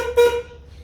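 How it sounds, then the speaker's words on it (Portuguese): A short, loud honk from a non-original horn fitted to a Fiat Palio, one blast of about a quarter second followed by a weaker tail, close by with no talk. "Mas essa não é a buzina original dele."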